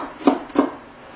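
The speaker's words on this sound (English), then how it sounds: "So I'm chopping the onion and chopping a little bit" A knife chopping onion on a board for kubbah filling, two quick sharp cuts close together, then quiet.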